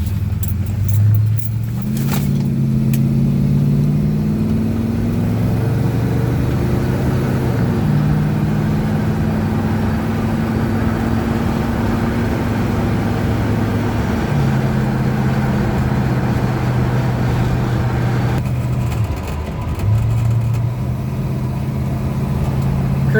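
A 1970 Buick Skylark with a 284-88H cam and 600 CFM carburetor cruises at low speed, its mid-pitched engine droning steadily and loud throughout, with a slight shift in tone near the end.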